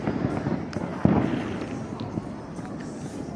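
Fourth of July fireworks in Allentown crackle and pop in a dense, distant-sounding wash, with a sharper bang near the start and scattered bursts over a steady rumbling background.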